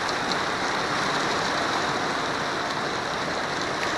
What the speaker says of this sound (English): So I can actually sleep and watch the rain for a change.